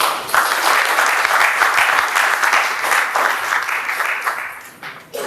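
Lecture audience gives a full round of applause, dense crowd clapping sustained for five seconds, loud and even, easing slightly toward the end.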